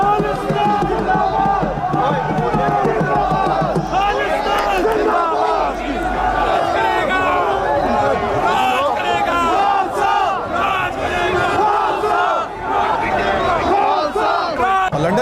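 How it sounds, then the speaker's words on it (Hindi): Crowd of Khalistan supporters chanting slogans in unison at a protest outside the Indian High Commission in London, loud and dense with overlapping rhythmic shouts throughout. "दूसरी तरफ खालिस्तान समर्थकों की भीड़ नजर आ रही है, जिसने खालिस्तान के समर्थन में नारेबाजी की"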